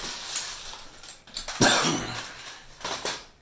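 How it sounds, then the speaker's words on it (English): A few short, harsh coughs burst out at intervals, one louder hack in the middle, with faint clatter in the background. "Stop coughing."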